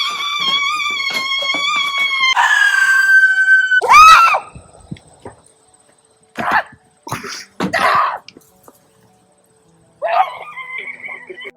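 A woman lets out loud, full-throated screams, shrill and sustained at first, then breaks into a run of shorter gasping, shrieking bursts with brief silences between them, close and dominating.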